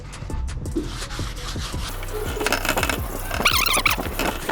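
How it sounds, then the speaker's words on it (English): Sanding a car fender coated with guide coat using 320 grit sandpaper on a block, steady rubbing strokes in a close, busy rhythm with a few light clinks. "We're using 320 grit sandpaper."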